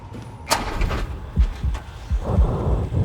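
Low thumping heartbeat pulses from the Silent Hill 2 Remake horror game, several deep thuds in an irregular rhythm under a muffled ambient rumble.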